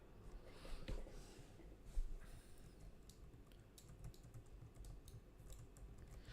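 Typing on a glitching computer keyboard: soft, irregular key taps and clicks in quick clusters, close but quiet, with no talking.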